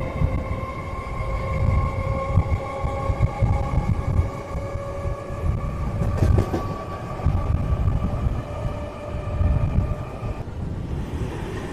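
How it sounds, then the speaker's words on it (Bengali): A passenger train pulls out of Dankuni Junction on the Howrah–Barddhaman chord line, a steady rumble of wheels on rails with a sustained whining motor tone heard from inside the carriage, no talk. "ট্রেন ছাড়লো ডানকুনি জংশন থেকে"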